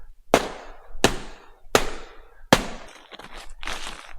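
A dead blow hammer pounds hardened material inside a 5-gallon bucket, four sharp, loud, close strikes about a second apart, followed by scraping and rattling of broken chunks.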